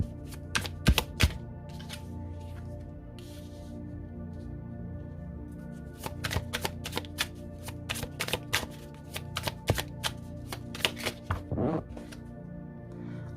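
Tarot cards are shuffled and drawn for a Gemini reading, with crisp riffling flicks and sharp snaps in bursts, close up and fairly quiet, against a faint background hum.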